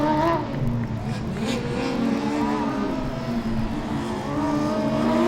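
A Formula Student race car runs an autocross course at Formula Student Germany 2012. Its high-revving engine whines continuously as the pitch rises and falls through gear changes, heard at a moderate distance over a crowd murmur.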